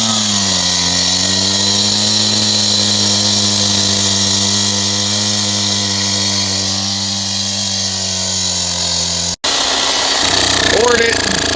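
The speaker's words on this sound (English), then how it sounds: "we are going to cut deep lines, which is going to make fracture points" A power saw cuts deep lines into a wet concrete pad, producing a loud, sustained droning whine that shifts slightly in pitch. It cuts off abruptly near the end, leaving scraping noise behind.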